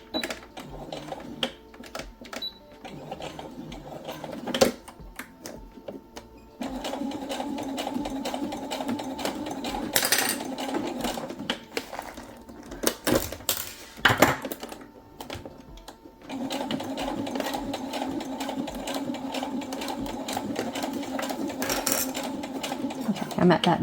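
A sewing machine stitches binding in place on a synthetic leather pouch in rapid mechanical runs, stopping and restarting in bursts, while a person talks over and between the stitching.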